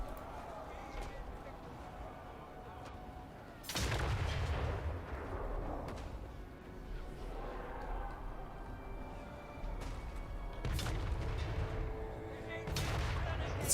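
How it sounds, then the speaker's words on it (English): Cathay cannons firing in a land battle of a strategy video game, heavy booming blasts landing in several bursts over continuous battle din, with a voice talking through it. "Man, I love the Cathay cannon sound design."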